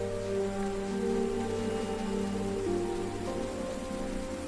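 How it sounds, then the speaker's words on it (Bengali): Cartoon rain begins falling in a rainy-season animated scene, a steady soft patter layered over a sustained musical drone, even and continuous without speech. "বৃষ্টি শুরু হয়ে গেছে"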